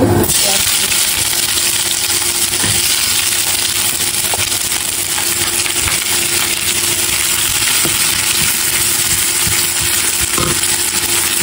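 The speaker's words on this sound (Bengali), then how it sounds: "এখন আমি লাল মরিচগুলো হালকা একটু ভেজে নেব" Red chillies frying in soybean and mustard oil for salty ilish shutki, a loud continuous sizzle and hiss close up, with a voice talking over it.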